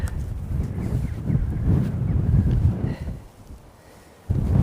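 Strong wind buffets the microphone at a riverside sea-fishing spot on the River Tyne at St Peters Basin, Newcastle, a loud continuous rumbling roar that dips briefly near the end before surging back.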